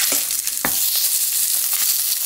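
Pork back ribs sear in a hot pot to brown on the outside, turned on all sides. A constant loud sizzle of frying is broken by a few sharp pops and clicks.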